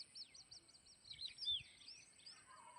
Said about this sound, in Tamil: அதோட பேர்ட்ஸோட சவுண்டெல்லாம் பாருங்கள்